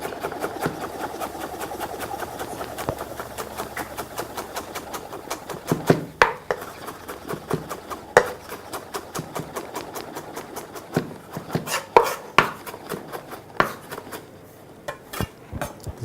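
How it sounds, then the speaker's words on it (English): A knife chops an onion finely on a board, with steady rapid knocks for the first few seconds, then sparser, sharper single chops toward the end, close and fairly clear. "This is our onion. You also need to chop it."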